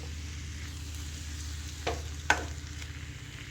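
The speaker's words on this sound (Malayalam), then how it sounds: "ഒരു ചുവന്ന് വരുന്നത് വരെ ഇളക്കിക്കൊണ്ടിരിക്കണം." Squid thoran frying in a pan and being stirred, a steady low sizzle with a couple of sharp spoon scrapes against the pan.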